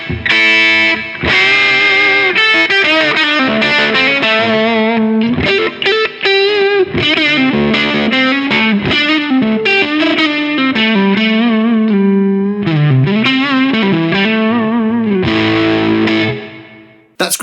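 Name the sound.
electric guitar through Kernom Ridge overdrive pedal, low gain scooped tone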